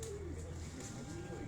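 Pigeons on a rooftop in Haripur, Hazara, giving soft, low, repeated coos close by against a steady background hum, fairly faint.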